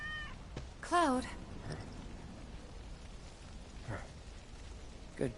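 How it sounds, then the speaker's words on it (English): A cat meows a few times in Final Fantasy VII Remake, one clear rising meow near the start followed by softer, shorter mews, over a quiet bed of rain-like ambience. "I swear, Tifa with the cat is just adorable"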